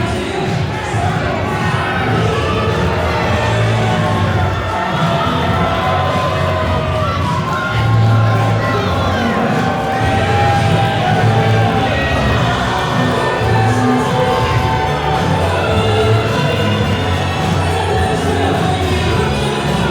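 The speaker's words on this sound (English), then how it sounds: "Thousands of Shining Star hands are up through the building, cheering on the champion, Dewey Robson." A packed wrestling arena crowd cheers for champion Dewey Robson in a continuous loud roar of yells and whoops that lasts the whole time.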